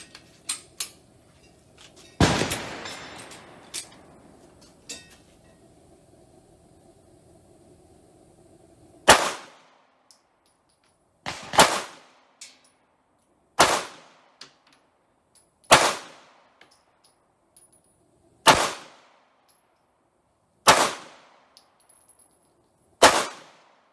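Handgun shots fired at a paper target on a shooting range from 10 yards, a burst of noise early then about eight sharp, loud reports spaced evenly roughly two seconds apart, each with a short ringing tail.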